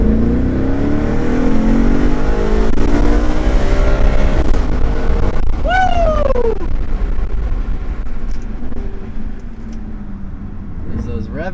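An Audi RS5 accelerates hard in sport mode on a straight road, its engine note climbing through the gears in loud rising sweeps with a sharp whistling rise midway, while people talk over it.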